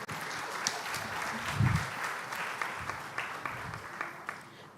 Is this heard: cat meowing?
no